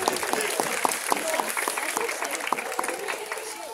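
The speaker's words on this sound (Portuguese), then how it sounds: "Palmas para Adriana, pessoal." Audience applause at an adult cosplay contest during a Bon Odori festival in São Bernardo do Campo, a steady crowd clapping with scattered sharp claps throughout, fairly distant, with a voice faintly underneath.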